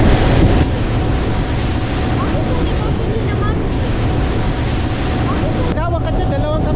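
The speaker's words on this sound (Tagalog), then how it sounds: "Lakas na hangin." Strong wind buffets the microphone aboard a ferry crossing San Francisco Bay near the Carquinez Bridge, a loud continuous roar with engine and water noise beneath it throughout.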